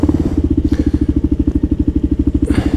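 A Kawasaki KLR650 dual-sport motorcycle being ridden, recorded on a GoPro Hero 9: a loud, close, rapidly pulsing single-cylinder thump with clatter and brief wind bursts, no voices.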